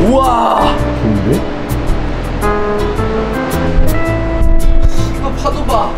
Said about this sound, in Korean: 이거 파도 봐.